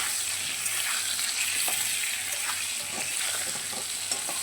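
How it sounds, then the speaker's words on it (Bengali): Thick-cut potatoes with salt and turmeric fry in hot oil, giving a continuous loud, close sizzle with faint stirring scrapes underneath. "এতে একটু লবণ আর একটু হলুদ দিয়ে ভেজে নেবো"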